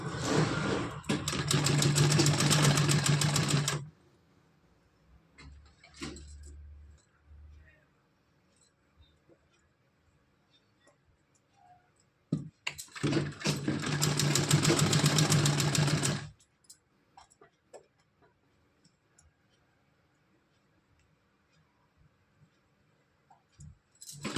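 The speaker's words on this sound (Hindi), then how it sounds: "पूरे में सिलाई लगा के दिखाऊंगी" A sewing machine stitches a small heart-pattern dress for a Kanha doll in two loud bursts of about four seconds each, with clicks and faint handling noises in the quiet gaps between them.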